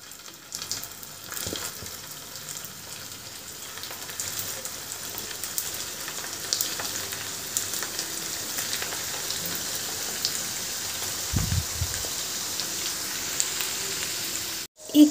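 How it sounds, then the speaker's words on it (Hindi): Veg roll tikki shallow frying in hot oil gives a steady, close sizzling hiss that holds through the whole stretch, with a brief clatter near the end. "मैं इसे शैलो फ्राई कर रही हूँ, आप चाहे तो डीप फ्राई भी कर सकते हैं।"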